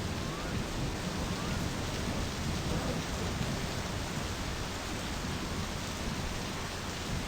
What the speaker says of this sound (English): During a fucking lightning storm?